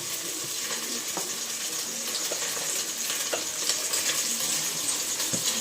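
Leftover cooked rice is tempered with mustard and fenugreek seeds in hot oil, giving a steady, close sizzle with occasional soft clicks of stirring.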